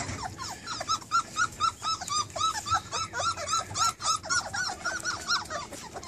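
Several puppies whimper and whine in a steady overlapping chorus of high, thin cries, close by, with soft low rustling underneath.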